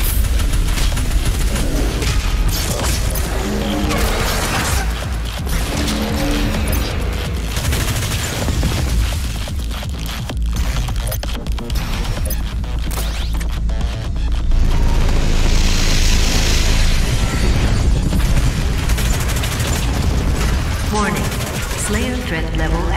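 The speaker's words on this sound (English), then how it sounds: "Warning, the FG-10000 is firing." Heavy cannon fire in the shooter game Doom Eternal, a sustained, loud barrage of booming blasts and rapid gunfire rolling on without pause, with a voice speaking over the din.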